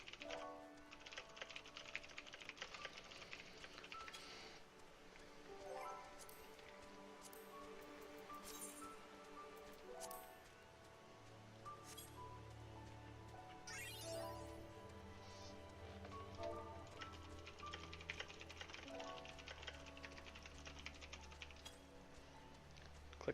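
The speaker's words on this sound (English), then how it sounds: "Mechanical keyboard." Steady typing on a mechanical keyboard with clicky, clacking keystrokes in irregular bursts, quiet and close, with game music and chimes playing underneath.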